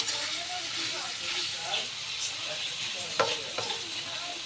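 Eel (kuchia fish) curry simmering in a pan, a soft continuous bubbling hiss with a couple of brief clinks near the end, while someone talks over it.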